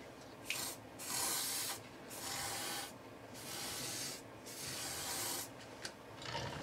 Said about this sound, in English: you can see the wax coming out the wand there